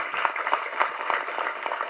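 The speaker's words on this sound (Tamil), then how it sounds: "கண்டிப்பாக அதற்கு ஒரு பெரிய கைத்தட்டல் ஜெய் பேபிக்கு" A dense, steady wash of audience applause fills a hall at the audio launch for the Tamil film Pogumidam Vegu Thooramillai, moderately loud and continuous with no voices standing out.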